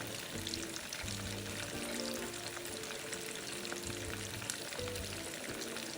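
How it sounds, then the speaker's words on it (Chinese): Chicken wing and drumstick pieces frying in a pot of hot oil, heard as a dense, steady close sizzle and crackle throughout with some faint bubbling underneath, with no voices. "像芋头一样过个油。 间中将鸡块翻面。"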